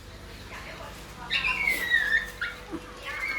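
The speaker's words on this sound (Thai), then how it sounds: "อีนังบิ๊กก็ ร้องอยู่นี่" A dog whimpers in high, thin whines, several short cries rising and falling, fairly close, with faint background noise.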